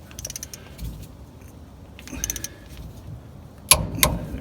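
Torque wrench tightening wheel lug nuts on a vehicle called the Orange Crate, with soft metallic clicks and ratcheting plus a couple of sharp metal clinks near the end, fairly quiet with some handling noise.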